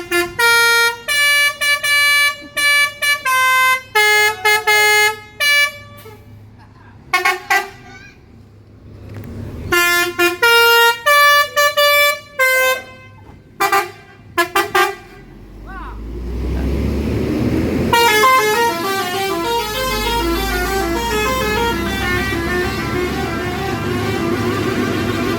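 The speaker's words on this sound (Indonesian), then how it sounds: "punya telolet yang bermacam-macam ya bunyinya" A bus telolet musical air horn plays bursts of melodic, multi-tone honks in choppy rhythmic phrases, then gives way to a sustained engine rumble with overlapping horn tones near the end.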